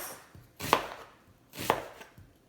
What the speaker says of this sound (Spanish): Ahora voy a cortar la cebolla en rajas delgaditas